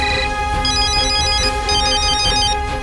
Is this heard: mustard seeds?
no